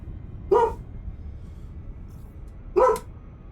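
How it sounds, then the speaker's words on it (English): A pet dog barks twice indoors, two sharp, loud barks spaced about two seconds apart over a quiet background with faint hum. "My dog is going ballistic. What are you barking at?"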